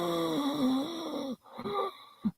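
A man imitates heavy breathing with his voice, drawing long, rasping, wheezy breaths. Two or three drawn-out, noisy breaths come close up, with a short gap between them.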